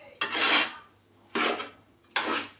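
Leftover rice is stirred with lemon and turmeric in a pan. Three separate scraping strokes of a spoon against the metal each last about half a second, with short quiet gaps between them, close and clear.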